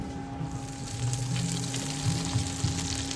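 Butter melting and sizzling in a pan before shredded kataifi pastry goes in for Dubai chocolate, a steady close bubbling fry with a low hum running underneath throughout.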